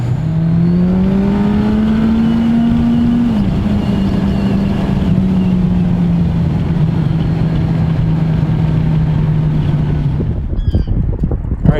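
A motorcycle engine roars loud and close throughout a ride, its pitch climbing and holding steady as the bike accelerates, then dropping off near the end with wind rush.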